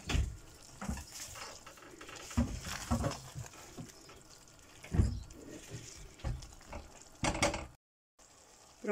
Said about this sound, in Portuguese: E vamos deixar novamente fritar aqui isto tudo.